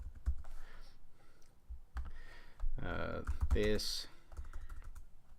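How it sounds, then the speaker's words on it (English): Typing on a computer keyboard gives soft, irregular key clicks beneath a man's speech, with a brief louder stretch of clatter partway through. "I'll type in MAMP website."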